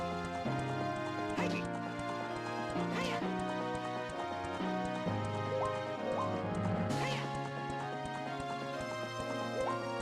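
Horse hooves clip-clop in Ocarina of Time over a busy, tonal musical backdrop, with a few sharper clattering hits mixed in.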